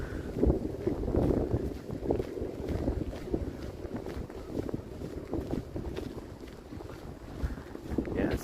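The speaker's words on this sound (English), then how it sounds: "Yeah, it's a bit windy." Wind gusts against the microphone on a sub-zero Monday evening in Toronto, a continuous low buffeting rumble close up that carries on under a person talking.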